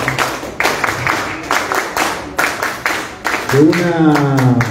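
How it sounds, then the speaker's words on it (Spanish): Applause for a party member at a political meeting in Lima on agricultural proposals, scattered bursts of clapping mixed with crowd noise, then a voice with a loud hum takes over near the end. "también fuertes palmas para ella que nos acompaña"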